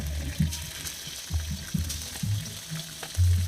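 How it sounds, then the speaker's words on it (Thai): Pork stir-frying in hot oil in a pan, a steady sizzle broken by a few louder bursts as the meat is tossed, close and loud with no talking. "ผัดหมูให้หอมให้สุก"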